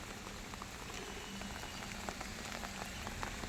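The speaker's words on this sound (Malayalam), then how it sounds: "മഴയാണ്" Rain falls steadily on a garden with lotus bowls and leafy plants, making a dense, even patter with close droplet hits and a faint continuous hum, and no talking.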